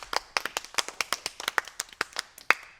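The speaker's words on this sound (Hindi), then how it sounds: "एक बार जोरदार तालियां बजा दो।" Children clap loudly in a slow, uneven rhythm, about fifteen sharp separate claps with short gaps and one especially strong clap near the end, with no talk over them.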